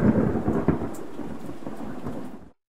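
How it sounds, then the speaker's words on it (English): Thunder from an Unreal Engine 4 storm rolls in as a loud, deep rumble over steady rain hiss, fading out near the end before cutting to silence. "a random thunder sound effect"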